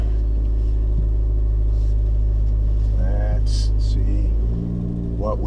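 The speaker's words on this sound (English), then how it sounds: "Don't know if you can hear the engine much, but it's pretty loud when it revs up." Abarth 595 car engine heard from inside the cabin while driving through a neighborhood, a steady loud low rumble that swells into a short rev near the end.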